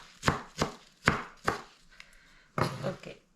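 A knife chops a green vegetable on a cutting board: four evenly spaced crisp chops, a short pause with a faint tap, then a quick cluster of several more cuts, close and clear with no talking.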